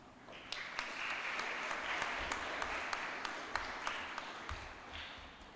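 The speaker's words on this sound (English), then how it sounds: "I think they deserve a better applause." Audience applause at a Year 5 junior school graduation ceremony, a steady wash of clapping from a crowd with sharper individual claps standing out, moderately distant and sustained throughout.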